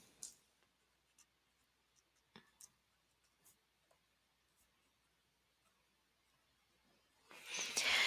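A pencil labels a graph axis on paper in sparse, faint scratches and ticks spread across quiet, followed by a louder rustle at the end.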